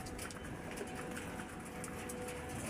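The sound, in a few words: pigeons cooing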